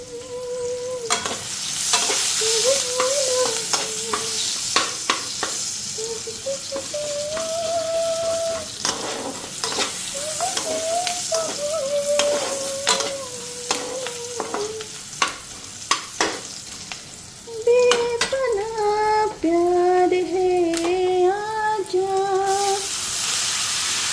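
Food crackles and pops the moment it goes into a hot wok, with a dense sizzle and many sharp, scattered bursts over a long stretch, while a faint melodic tone runs underneath.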